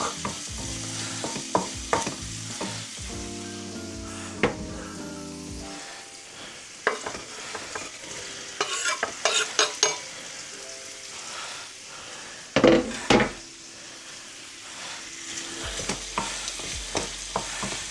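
Onion frying in bacon fat in a pan, stirred with a utensil: steady sizzle with scraping stir strokes and clinks throughout, close and fairly loud, no talking.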